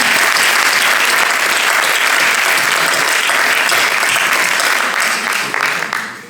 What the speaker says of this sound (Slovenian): Dajmo Galu en velik aplavz